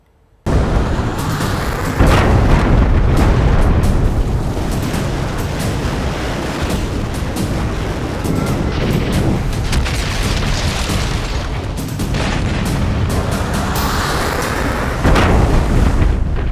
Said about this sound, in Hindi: मिसाइल से अटैक, बम से हमला